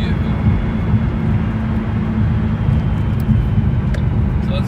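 Mustang SuperSnake pulling in third gear at about 70 mph, heard as a loud, steady, deep engine and road rumble with no clear gaps from start to finish.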